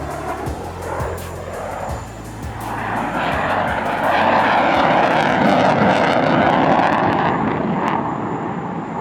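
Jet fighter solo display, an F-16E Desert Falcon or Mirage 2000-9, roaring at an air show; a loud, continuous engine roar swells over several seconds and sweeps past near the crowd.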